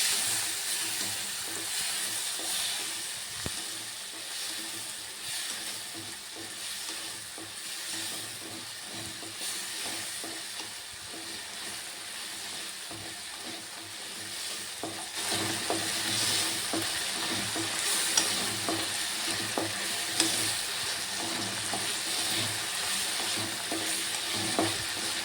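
Tomatoes fry in a pan with a steady, soft sizzle and hiss for a long stretch, occasionally broken by light stirring clicks and scrapes.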